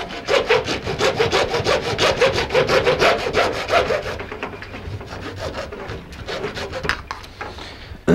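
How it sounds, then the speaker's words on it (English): Hand saw cutting through PVC pipe at close range, with a fast, loud, rhythmic rasp of back-and-forth strokes that slows and thins toward the end. "now what we're doing is we've measured, we're cutting our PVC at"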